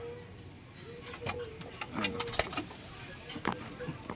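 Punjabi Malwahi pigeons kept in a loft coo softly in short low calls, with light rustling and faint background voices.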